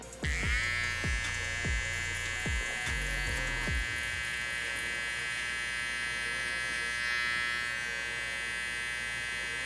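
Electric hair clippers setting a guideline for a low taper fade give a steady high-pitched buzz running continuously, with a few low knocks near the start.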